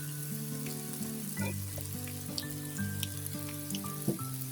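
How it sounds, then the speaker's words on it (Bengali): Snacks of wheat-flour dough with chicken fry in hot oil, giving a steady, close sizzle with soft bubbling crackle throughout and faint tonal sounds in the background. "ভাজা হয়ে গেছে, উঠিয়ে নিব"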